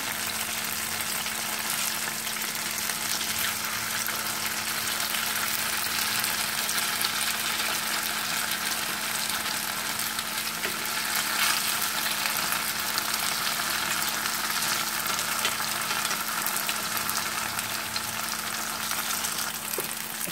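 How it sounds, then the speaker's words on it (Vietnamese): Tofu slices frying in oil in a pan, giving a steady, dense sizzle that holds evenly throughout with a faint low hum underneath and no voices. "cứ để vàng một mặt thì mình hắc lật nhé với đậu thì nó khi mà đã vàng rồi thì rất là nhanh chín"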